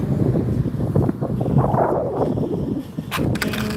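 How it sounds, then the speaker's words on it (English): Strong wind buffets the microphone in a steady, rumbling roar throughout, with low gusty thumps and no clear voices. "So, yeah, it's hella windy, I'm telling you, man."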